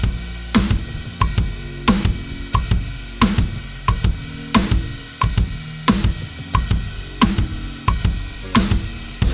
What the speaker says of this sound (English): start off with a beat that incorporates a lot of double notes on our kick